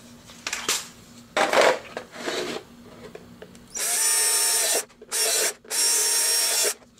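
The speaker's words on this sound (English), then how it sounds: "take the inner container and we're going to drill holes everywhere." A power drill bores holes in the inner plastic container of a soup-container hydroponic system, coming as several short loud bursts after softer handling sounds.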